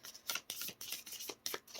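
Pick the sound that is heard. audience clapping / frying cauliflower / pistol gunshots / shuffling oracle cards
shuffling oracle cards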